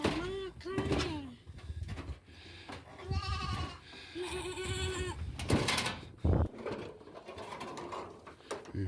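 Goats, including kids, bleating in their pen on a Philippine goat and pig farm: several wavering, nasal calls at close range, mixed with a person talking and some farmyard clatter.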